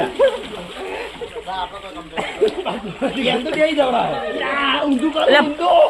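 Water splashes and sloshes close up onto the camera amid excited voices and laughter, the splashing growing busier toward the end.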